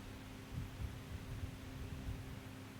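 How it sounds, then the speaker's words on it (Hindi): Electric fans running around a quiet room, a steady low hum with faint broadband whoosh and soft throbbing, continuous and distant, with no talk. "आपके चारों तरफ जो भी पंखे चल रहे हैं उनके आवाज को कैच करेंगे।"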